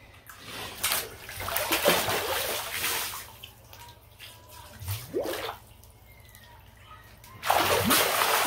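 A person wades into cold open water, with intermittent splashes and sloshing at close range, some louder surges near the end and quiet gaps between them.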